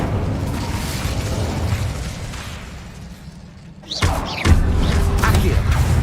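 Fire and blast spell effects going off in Hogwarts Legacy on PS5, a loud rumbling roar that dips and then bursts into booming explosions with crackling debris, over game sound.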